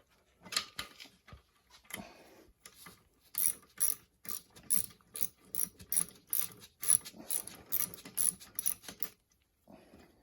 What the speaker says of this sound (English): I have to take 2 more bolts off.